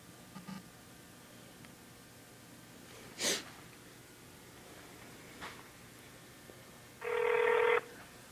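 A telephone call placed to someone without a cell phone, heard as a few faint scattered clicks and then a loud, steady electronic tone near the end, with no voices.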